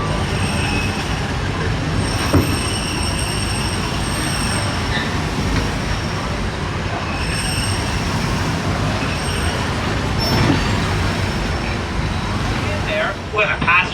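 The Disneyland Railroad train rolls along its rails, a continuous clattering rumble with high metallic wheel squeal and whine threading through, and brief louder clanks near the end.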